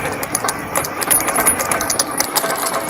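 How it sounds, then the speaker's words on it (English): Small repeated rattling taps from a loose fender on a Biktrix Juggernaut Ultra FS Pro 3 full-suspension e-bike, riding a dirt trail, an irregular metallic clatter over steady wind and tyre noise. "Something's rattling on my fender."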